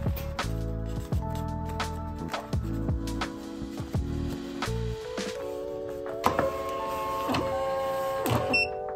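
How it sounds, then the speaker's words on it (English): Rollo thermal label printer feeding a label, a series of short whirring motor runs at shifting pitches broken by clicks and taps, close and quiet with no talk. "I'm gonna take the label here, and then we're gonna feed it into the machine"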